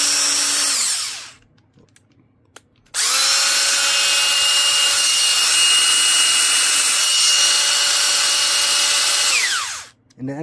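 Rebuilt Milwaukee half-inch brushed impact wrench running free in two bursts, a short whine that spins down, a pause, then a long steady high-pitched motor drone of about seven seconds winding down at the end, close and loud with no talking.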